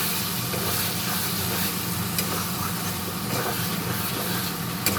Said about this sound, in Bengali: আর একটু ভালো করে আমি কষিয়ে নেব।